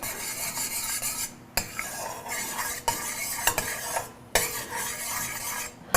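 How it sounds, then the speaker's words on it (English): Honey boiling in a pot, with steady bubbling and sizzling, interrupted by repeated metallic scrapes and clinks of a utensil stirring against the pot, close and fairly loud. "As you can see, our honey is definitely boiling."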